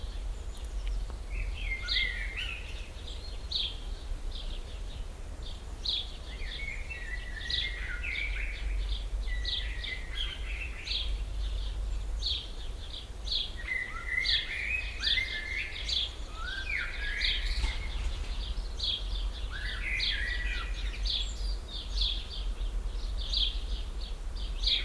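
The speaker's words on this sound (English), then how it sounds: "let's take a listen at how some of the nice birds are chirping behind my family house in Poland" Birds chirp behind a family house in Poland, a string of short, bright songs and tweets repeating every few seconds at moderate distance over a steady low outdoor hum, with no voices.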